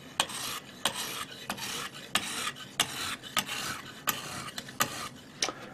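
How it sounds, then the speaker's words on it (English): A hunting knife is drawn along the stone of a Lansky sharpening system in a quiet room, with about ten close, regular rasping strokes, each a short scrape followed by a brief pause. "People have trouble sharpening as they get to the point of the blade, but this Lansky system really does it nicely."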